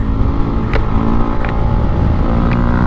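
A Yamaha Aerox V2 155 scooter engine accelerating hard, with a loud, steady, close engine drone and a rising whine that holds throughout, with no speech.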